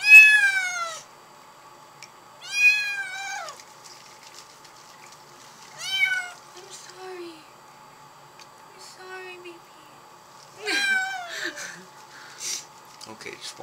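A kitten being bathed meows loudly and plaintively four or five times, with pauses between cries, over a faint steady hum.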